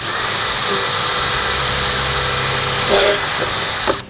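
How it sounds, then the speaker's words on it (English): A power drill whirs loudly and steadily for several seconds, with a couple of brief pitch changes before it cuts off at the end. "So if I wanted to drill this,"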